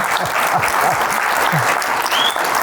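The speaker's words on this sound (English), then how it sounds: "we can applause for that" Steady, dense clapping from a crowd fills the whole stretch, loud and continuous without pause.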